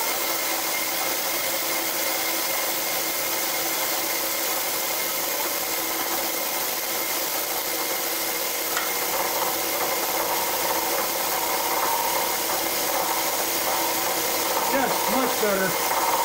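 An end mill held in a collet cutting metal on a milling machine: a steady, loud, broadband whirring hiss with a sustained high ringing tone, continuous throughout, with faint clinks near the end.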